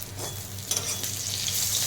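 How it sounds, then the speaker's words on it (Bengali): Eggplant slices frying in hot oil in a pan, a dense, steady close sizzle with a brief crackling flare. "এখানে বেগুন ভাজা চলছে"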